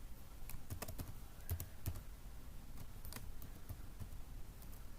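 Login credentials are keyed in on a computer keyboard, producing a steady run of close, crisp key clicks with a few heavier strikes and brief pauses in the rhythm, with no talk over it.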